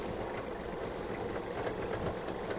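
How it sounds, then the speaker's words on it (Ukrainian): A small Japanese ISEKI mini-tractor diesel engine, about 20 years old, running steadily nearby with a rough, chugging idle, continuous and fairly loud with no pauses. "дуже-дуже великий трактор розвертається з місця."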